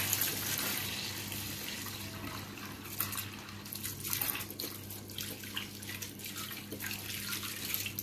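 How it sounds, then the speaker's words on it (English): Tap water runs steadily into a sink during handwashing, a continuous close hiss with slight splashing changes and no talk. "After you finish that, you carefully wash your hands."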